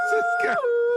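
A man imitates a wolf howl, a single drawn-out vocal wail with a strong steady tone that bends upward midway, then holds and falls, loud and close with no other talk.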